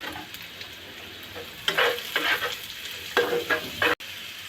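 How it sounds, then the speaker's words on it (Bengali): Thinly sliced vegetables frying in a pan until pink, with a steady sizzle and periodic scraping strokes of a spatula stirring them, heard close with no talking. "লম্বা লম্বা পাতলা পাতলা করে কেটে নিয়ে এটাকে পিঙ্ক কালার পর্যন্ত এটা ভাজতে হবে"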